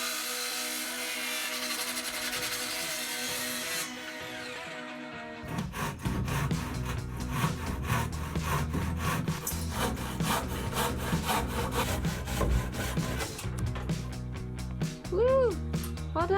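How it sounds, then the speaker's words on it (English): A wooden roof rafter being cut during an off-grid cabin build to frame an opening for a Velux roof window: a steady run of rapid, rasping saw strokes, close and fairly loud, with a brief pause and a whirring tone near the end. "So the next job is cutting one of the rafters and making the opening and framing it for the Velux window."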